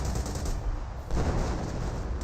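Grenadiers fire in Company of Heroes as a loud, close volley of overlapping gunshots, with the racket carrying through the whole short moment.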